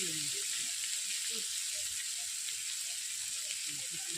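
Watery mustard and poppy seed paste poured over vegetables frying in oil for shukto, giving a soft, steady sizzle and hiss throughout, fairly quiet, with faint voices low underneath.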